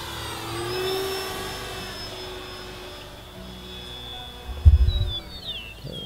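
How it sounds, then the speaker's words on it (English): A T-28 Trojan 1100mm RC warbird plane makes a low flyby, its faint motor hum and whine drifting past at a distance, followed by a brief thump up close. "Okay, we'll do some lower flybys now."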